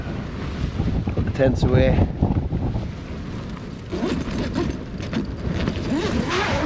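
Strong, cold winter wind at a Lake District wild camp buffets the microphone in a steady roar, with a voice speaking briefly over the gusts.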